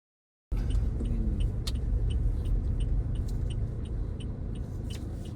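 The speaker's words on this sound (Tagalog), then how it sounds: "Ito, mabibilis kotse. Kailangan buwelo ka rito eh." Cars speed past on a road, a steady loud rumble of tyres and engines that starts abruptly and carries on throughout, with faint higher clicks over the roar.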